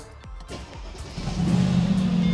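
A Rolls-Royce Cullinan with carbon bodywork that has sat unused for a while cranks over briefly, then catches and rises into a deep, steady engine rumble. The engine grows louder and holds close by, with no talking.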